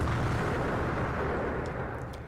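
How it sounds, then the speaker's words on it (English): Explosions in the video game Code: Realize, a dense continuous rumbling roar of blasts going off one after another, loud and steady throughout. "Explosions go off, one after another."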